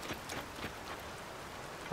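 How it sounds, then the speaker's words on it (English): Rain falls steadily in The Legend of Zelda: Tears of the Kingdom, a constant hiss of drops spattering on the ground, with a few soft taps and no speech. "Boy, this rain is gonna make it a little bit difficult to climb up that mountain"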